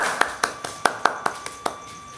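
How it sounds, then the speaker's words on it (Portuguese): A few hand claps for a camera assistant during a Portuguese-language talk, about eight sharp, irregular claps, fairly close and moderately quiet, with no talking. "Palmas pra ele, Lucas Giovelli, aí, palmas."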